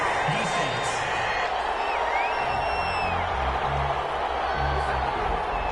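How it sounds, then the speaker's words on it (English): A large stadium crowd at an American football game boos and murmurs after a penalty flag, a broad sustained roar with scattered whistles and whoops, while commentators talk over it. "Well, the crowd doesn't like that."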